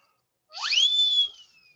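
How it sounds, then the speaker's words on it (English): A single sharp whistle blast during an online chemistry lecture, rising quickly to a bright sustained tone that holds for under a second, then cuts off with a faint lingering tail, loud and alone with no talk. "Love that whistle."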